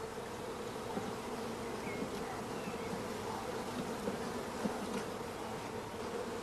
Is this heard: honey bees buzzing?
yes